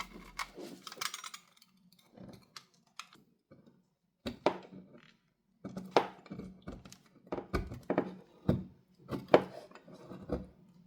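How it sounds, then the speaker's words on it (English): A knife finely chops common household soap on a board in quick bursts of sharp, close taps and thunks, separated by short pauses, with no voices. "First, I am finely chopping the soap"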